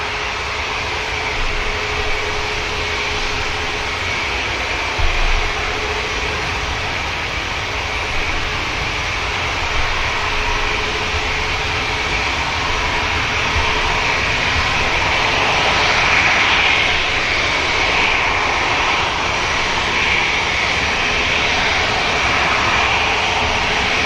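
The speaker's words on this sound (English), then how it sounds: "Ryanair for Eindhoven making its way over." A Ryanair airliner bound for Eindhoven taxis at Manchester Airport, its jet engines giving a constant broad whine and roar that holds steady and swells slightly toward the end.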